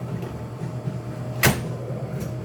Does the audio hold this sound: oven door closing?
yes